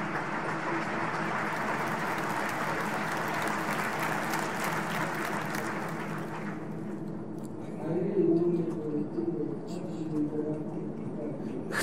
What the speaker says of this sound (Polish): Państwo przerwali oklaskami